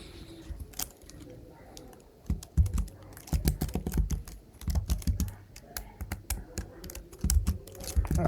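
Typing on a computer keyboard during a speed-typing practice session, with bursts of close, irregular key clicks and clatters that come in uneven runs, stop briefly and start again.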